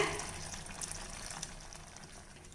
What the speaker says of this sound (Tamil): கொதிக்கிறதுக்கு கொஞ்சம் தண்ணியும் விட்டுக்கலாங்க